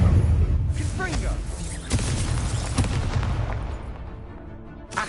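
The Confringo blasting spell explodes in the video game Hogwarts Legacy: a few loud, booming blasts, each followed by a rumbling decay.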